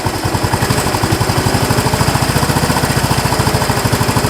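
A Yamaha SR250 motorcycle single-cylinder engine idles on partial choke, a loud, steady, rapid low thumping pulse that runs alone throughout.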